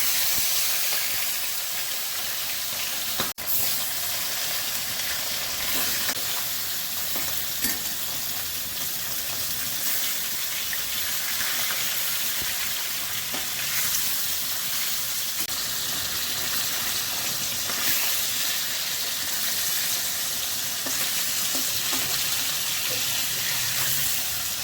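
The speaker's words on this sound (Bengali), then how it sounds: "প্রথমেই আমি মাছগুলো ভেজে নিচ্ছি, নুন হলুদ মাখিয়ে নিয়েছি।" Rohu fish pieces rubbed with salt and turmeric fry in mustard oil, making a continuous even hiss and sizzle that stays fairly loud and unbroken throughout, with no voices.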